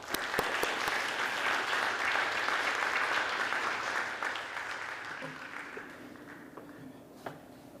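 Lecture audience applauding to welcome Professor Sidney Altman: sustained, dense clapping that thins and fades over the last few seconds, leaving scattered claps and a faint knock.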